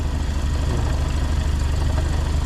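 A freshly overhauled engine idles smoothly and steadily, a close, even low rumble with a regular pulse and no other sounds.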